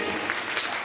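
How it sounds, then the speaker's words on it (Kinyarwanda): A church congregation applauds during an overnight worship service at New Jerusalem. The sound is a brief, dense burst of many hands clapping together, loud and enveloping, with no clear speech over it. "Dukomere Imana amashyi"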